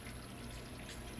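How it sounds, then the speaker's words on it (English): Water runs in a smooth, almost laminar flow over a micro gold cleanup sluice, a steady, quiet, even rush with no breaks and no voices. "We got a almost laminar flow of water going on there."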